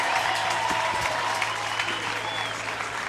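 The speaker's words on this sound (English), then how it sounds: "But he'll get a good cheer from the crowd." A stadium crowd at the IPC Athletics World Championships in Lyon keeps up a steady roar of applause and cheering, broad and sustained, with a few louder claps standing out over the general wash.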